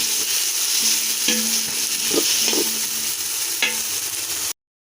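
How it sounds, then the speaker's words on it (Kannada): Onion and tomato frying in oil in a pan, stirred with a spoon: a constant soft sizzle with a low hum beneath and a few distinct scraping strokes and clinks, close up and without voices. "ಟೊಮೊಟೊನ ಸ್ವಲ್ಪ ಮೆತ್ತ ಮೆತ್ತಾಗೋ ತನಕ ಎಣ್ಣೆ ಮತ್ತು ಈರುಳ್ಳಿನ ತಿರುಗಬೇಕು"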